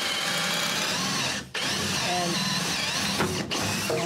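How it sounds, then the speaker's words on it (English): A power drill with a dull auger bit bores a hole for electrical wiring, running loudly and continuously with two brief stops, while someone talks over it. "And this auger bit is dull, so usually it would just break through nice and easy."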